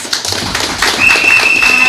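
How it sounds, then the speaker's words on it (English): Applause from a live audience at a political meeting in Sangre Grande, Trinidad and Tobago, a dense, loud patter of clapping hands that holds steady throughout with a faint whistle cutting through near the end. "Give them a round of applause."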